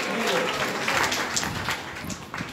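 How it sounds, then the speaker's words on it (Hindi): Loud applause from a crowd at a Bhagwat saptah religious gathering in Baraut, with dense, steady clapping that carries on throughout and voices mixed in underneath. "श्री लड्डू गोपाल जी मदन मोहन जी जोरदार तालियां।"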